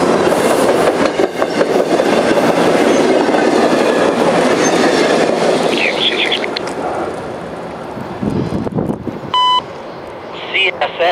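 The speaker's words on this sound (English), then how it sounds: "Told you it was a train." A CSX train rumbles past nearby, loud and continuous with clattering wheels, then thins out as brief electronic beeps and a defect detector's automated voice come through.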